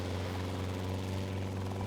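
A lightweight helicopter flies overhead while searching for zebras, its steady rotor thrum and engine drone loud and continuous, with no voices.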